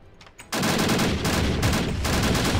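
Minecraft explosion bursts in abruptly after a quiet lead-in, then a loud sustained crackling roar with rapid repeated blasts, like rolling gunfire.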